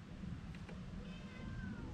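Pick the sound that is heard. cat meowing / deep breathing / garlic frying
cat meowing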